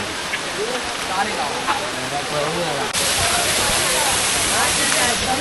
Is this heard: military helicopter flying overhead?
no